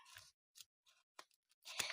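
A handmade paper surprise packet with stickers is opened: sparse crisp rustles and snips of paper, then a louder burst of tearing and crinkling at the end, close and otherwise quiet.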